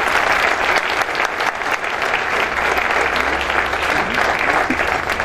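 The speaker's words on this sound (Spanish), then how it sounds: "Gracias a todos los miembros del Presidium, un caluroso aplauso, por favor," Warm, sustained applause from the audience at an environmental cooperation award ceremony, loud and dense throughout, with faint crowd murmur underneath.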